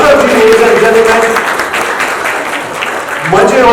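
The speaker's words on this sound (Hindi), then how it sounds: "गीता जी के पिताश्री के जोरदार तालियां हो जाए" An audience claps loudly for Geeta's father as he is brought on stage, a dense, sustained round of applause with a voice over it.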